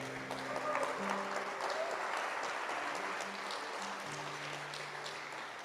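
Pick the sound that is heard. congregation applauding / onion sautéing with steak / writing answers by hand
congregation applauding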